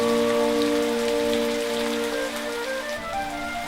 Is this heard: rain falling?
yes